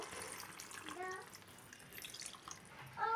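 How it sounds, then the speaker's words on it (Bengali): A little water is poured over food in a home kitchen, a faint short trickle with a few small splashes and drips near the start and end. "এখন এটার উপর অল্প জল দিয়ে দেব"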